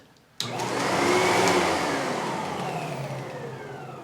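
A 1994 vacuum cleaner with an Amtech motor switches on abruptly and runs with a smooth, steady whine and airflow roar, slowly easing slightly in level, with no talking over it.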